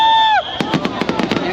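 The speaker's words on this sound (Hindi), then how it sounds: "तो आप देख रहे हैं कुछ इस तरीके से यहाँ पर ये आतिशबाजी हो रही है" Fireworks bursting at the Ayodhya Deepotsav festival, a rapid series of loud crackling pops after a brief tonal whistle, close and dense with no speech.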